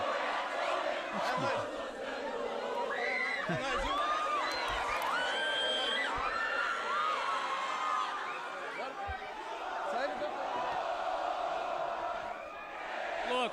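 Grêmio football supporters cheer and whoop in a festive welcome for returning player Luan, a continuous crowd roar with shouts and chants, with voices talking close by.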